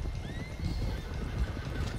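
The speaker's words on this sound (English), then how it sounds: "One of the stallions is loose!" A loose stallion in Red Dead Redemption 2 whinnies with a high, wavering call over soft clip-clopping hooves, moderately faint and without talking.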